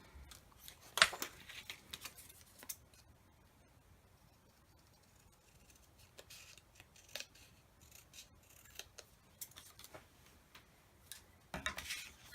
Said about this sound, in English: I can probably get a more accurate cut with my scissors than with my paper trimmer for something like this.